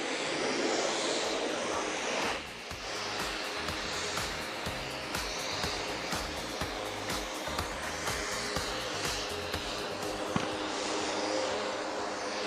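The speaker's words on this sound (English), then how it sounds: "as the aircraft accelerates to a speed of 400 knots to perform few snap rolls right in front of you" A fighter jet at an air show roars in a broad, sustained rush as it accelerates to about 400 knots for snap rolls, loud and steady with a slight swell.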